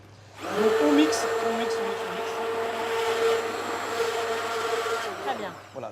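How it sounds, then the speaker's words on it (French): A small kitchen blender purees raspberries into juice, running steadily with a loud, continuous whirring drone that starts abruptly and holds for several seconds close by. "Donc tout le monde a ce genre de petit mixeur, hein, ces petits mixeurs qui servent à faire la soupe."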